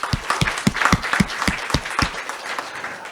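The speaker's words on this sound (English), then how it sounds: "Let's give them a round of applause." Audience applause at a charity-supported English program's valedictory ceremony, with a sparse, uneven patter of claps standing out close and fairly loud, a few claps landing distinctly amid the steady crackle.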